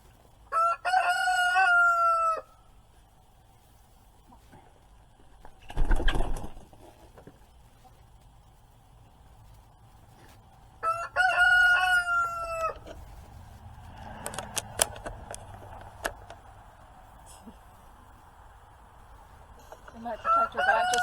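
A rooster crows loudly nearby three times, each cock-a-doodle-doo a couple of seconds long with long pauses between. Scattered clucks, thumps and patter fill the gaps, and faint speech is heard in the background.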